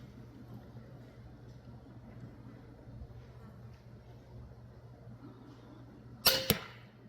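An arrow fired by a kneeling archer during bear-hunt practice in Manitoba strikes a target tipped with a Swhacker practice point, giving one sharp, loud smack near the end after a long stretch of quiet outdoor ambience with a low steady hum.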